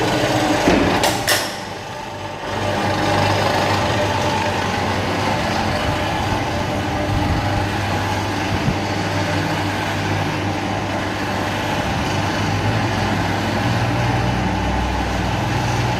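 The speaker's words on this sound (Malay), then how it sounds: "Ini motor dia." The motor of an ES-550 cargo lifter runs with a steady, continuous mechanical hum and rumble from close by. A couple of sharp knocks come near the start, then the drone carries on evenly.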